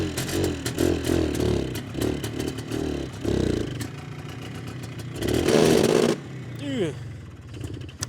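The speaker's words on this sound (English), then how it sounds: "Starter's working, but the little Bendix gear in there is not." A Polaris quad's starter with a failing Bendix gear whirs and grinds in several short bursts with metallic clatter and scraping, close up, separated by pauses and a brief groan from someone nearby.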